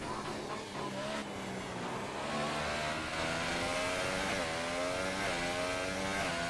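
A Formula 1 race car engine on a lap of Bahrain in an F1 video game, a loud continuous high-pitched whine rising and falling through gear shifts, heard alone without talk.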